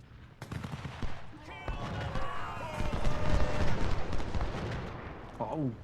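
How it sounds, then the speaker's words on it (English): Distant artillery and musket fire rumble across a Civil War battlefield in Ultimate General, a dense rolling barrage of booms and crackle that swells and fades, with a voice speaking over it. "We're taking artillery fire."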